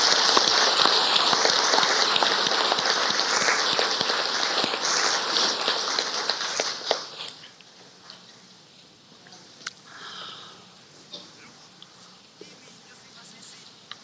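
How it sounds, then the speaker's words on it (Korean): A church congregation at an all-night prayer lecture breaks into big, dense applause that fills the hall for about seven seconds, then cuts off into quiet room tone with a few scattered claps and small noises. "우리 감사의 마음으로 큰 박수 드립니다."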